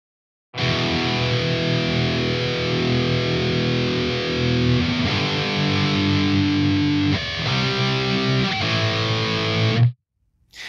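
Distorted electric guitar playing a riff slowly, with heavy, sustained, chugging chords that shift pitch several times before stopping abruptly; loud and alone.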